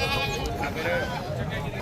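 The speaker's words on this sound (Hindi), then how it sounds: "ये देखें माशाल्लाह बकरा, वज़न भी आप बकरों के चेक कर लें।" Goats bleating at a busy livestock market, a short wavering call heard over steady crowd noise and nearby talk.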